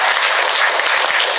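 Audience applause for the members of a retirees' folk song choir at a folk song evening in Alistál: dense, steady clapping throughout, with no voices over it.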